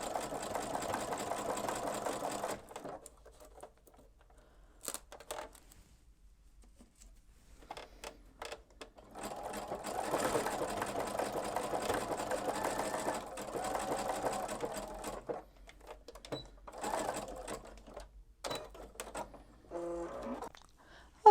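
A sewing machine stitches freestanding lace pieces together, running in several steady bursts of rapid mechanical whirring separated by short pauses, close and moderately loud with no talking.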